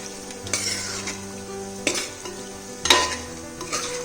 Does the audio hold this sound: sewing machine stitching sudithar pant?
no